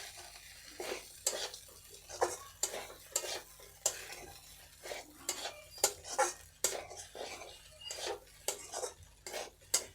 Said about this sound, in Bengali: অল্প অল্প করে দেবো আর নেড়ে নেড়ে মিশিয়ে নেব